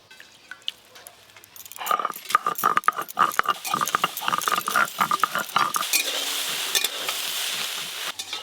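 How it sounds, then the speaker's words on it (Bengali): Soya chunks fry lightly in a pan, with a steady sizzle and repeated close metallic scrapes and clinks of a spatula stirring. The sound starts quiet and grows busy after the first couple of seconds. "সয়াবিনগুলো হালকা করে ভাজা হয়ে গেছে"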